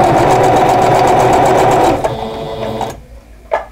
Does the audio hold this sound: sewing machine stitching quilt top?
yes